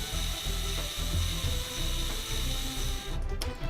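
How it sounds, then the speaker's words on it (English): A hot rod in World of Guns is disassembled as its body screws are unscrewed, giving repeated mechanical ratcheting clicks in a steady rhythm that cut off near the end. "Move out the body left screws and the body right screws."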